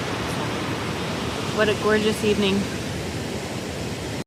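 Kennedy Creek Falls in the Emigrant Wilderness of the California Sierra: a steady, broad rush of falling water fills the whole clip, with someone speaking briefly over it.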